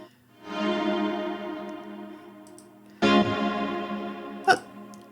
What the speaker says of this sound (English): can't really say there's anything wrong with the reverb, just don't overdo it